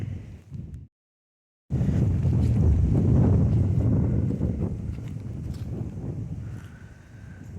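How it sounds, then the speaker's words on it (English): Strong outdoor wind on a sunny, warm day gusts and roars against the microphone in heavy low buffeting, briefly cut off near the start, then loud and sustained before easing slightly. "the wind is majorly picking up"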